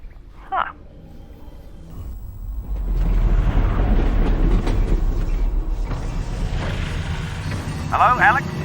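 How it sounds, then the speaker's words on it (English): A train in the VR game Half-Life: Alyx grinds and creaks along, a loud rumbling mechanical rush that swells, holds, then winds down with metallic squeals at the end as it comes to a halt. "Did the train stop? It stopped, didn't it?"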